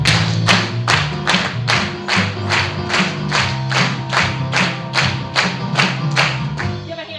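Audience clapping along in a classroom while dancers do their steps, with sharp, evenly spaced claps in a steady beat of about sixteen counts, loud and close over a background of music.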